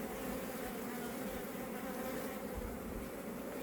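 Honey bees at an open beehive make a dense, continuous buzzing hum, close and even, with no voices.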